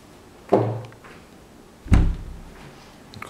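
A kitchen cabinet door shuts twice, each a short, hollow wooden thud followed by a brief rattle, separated by about a second and a half of quiet.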